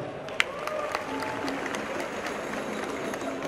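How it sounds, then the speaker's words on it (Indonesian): Applause from the audience at a comedy roast of the police held before the national police chief, a fairly faint and diffuse patter of clapping in a large room, with one sharp clap standing out near the start. "Tepuk tangan untuk ayah saya."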